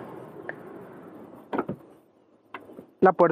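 A Volkswagen Multivan T7 e-Hybrid 2022 power sliding side door pulls itself shut, a quiet motor whir followed by several short clunks and latching thuds, close by.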